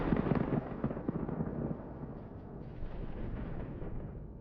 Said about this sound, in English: The heat traps ignite and explode, creating a spectacular view.